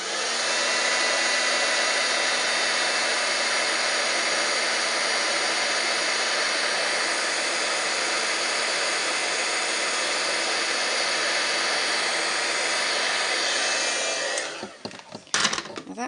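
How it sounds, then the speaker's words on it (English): A heat gun blasts a loud, steady rushing hiss up close while melting embossing powder glue on a card, holding constant for about fourteen seconds before cutting off with a few clicks and handling knocks. "And then I'm going to heat it with the heat gun."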